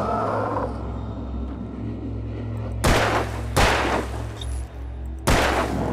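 Three loud, sharp gunshots from a gun in the video game Alan Wake, spaced about a second or more apart, ring out over a low droning rumble.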